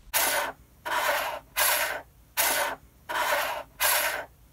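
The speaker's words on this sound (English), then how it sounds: "I decided to spin a small metal container on the same desk" A small metal container spun on a desk, heard as six evenly spaced bursts of bright, raspy whirring, each about half a second long, separated by short quiet gaps, close and alone.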